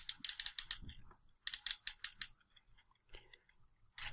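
Transformers Combiner Wars Hot Spot Voyager figure having a joint rotated, giving two quick bursts of sharp ratchet clicks, about six each, close and crisp, followed by a few faint isolated clicks in near silence.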